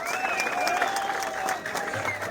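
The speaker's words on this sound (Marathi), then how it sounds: "टाळ्या वाजत राहिल्या पाहिजे" Crowd applause at a Kokan Nagar Govinda pathak practice gathering for the Dahi Handi human pyramid, a dense, steady wash of clapping from many hands with shrill whistles cutting through throughout.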